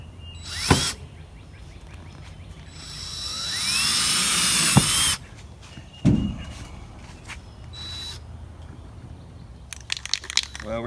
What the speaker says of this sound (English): they try the jigsaw.